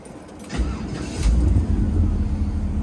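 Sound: 1969 Oldsmobile Cutlass engine starting

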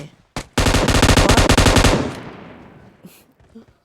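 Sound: gunfire in PUBG Mobile video game

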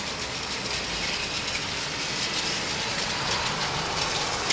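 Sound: TOMY Plarail Pokemon toy train running on track

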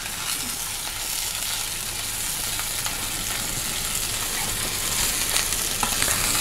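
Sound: meat with cockles cooking in a pan

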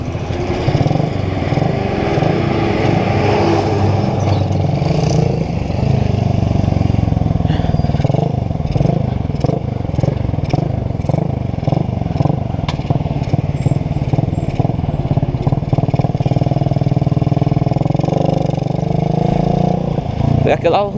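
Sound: motorcycle engine revving

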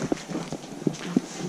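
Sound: footsteps heard in a supposedly haunted house

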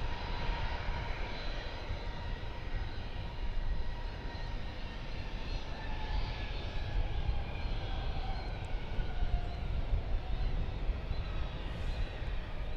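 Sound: American Airlines Airbus A321 jet airliner

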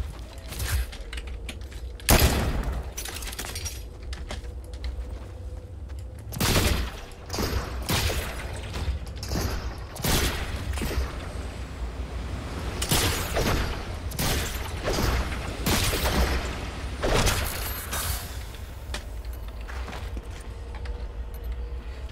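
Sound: gunfire from a gun in the video game Fortnite

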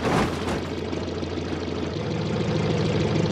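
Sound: car engine still running after crash, Automation video game

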